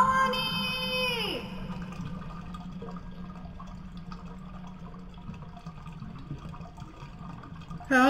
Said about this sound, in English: Help! He's gonna flush me!